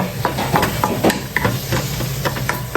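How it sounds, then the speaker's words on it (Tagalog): Chicken sautéing in a pan for chicken lomi, a loud close sizzle with repeated scraping and stirring strokes of a utensil against the pan, steady and unbroken throughout. "Habang ating ginigisa po ang ating chicken."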